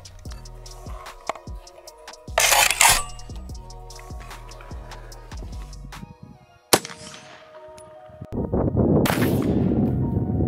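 A single sharp gunshot cracks out mid-clip, fired at a Motorola phone, amid metallic clanks and clattering handling noises, followed by a burst of loud rustling.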